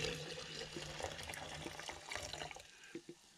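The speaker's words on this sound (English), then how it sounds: "So I'm just going to pour the coffee back in it." Brewed cowboy coffee pours from a vessel back into a freshly rinsed coffee pot, a soft close liquid trickle and splash that tapers into a few faint dribbles and drips at the end.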